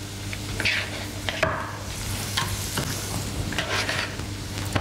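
Garlic sizzling in a frying pan while being stirred, a steady soft hiss with intermittent scraping and tapping of a utensil against the pan, close up and without talk.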